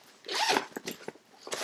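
A zipper on a storage bag is pulled open in one long rasping stroke, followed by a few shorter tugs and rustles of fabric nearby.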